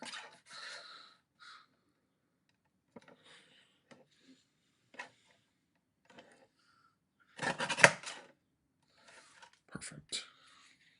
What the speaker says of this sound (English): Let's do a little bit of trimming.